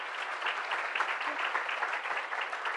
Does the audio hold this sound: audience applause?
yes